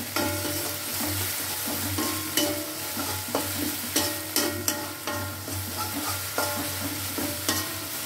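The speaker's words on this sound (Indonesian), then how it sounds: "ini dimasak sebentar aja sampai petenya sedikit layu" Stink beans (pete) being stir-fried in sambal, a steady close sizzle broken by repeated knocks and scrapes of a spatula against the pan, with no voices.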